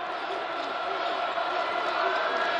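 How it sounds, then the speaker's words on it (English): Loud, steady roar of a packed arena crowd at a state championship high school basketball game between Central and Dudley, a continuous dense wash of cheering and noise with no gaps. "Boy, it's loud and rocking in here right now. Great crowd, both sides, Central and Dudley both."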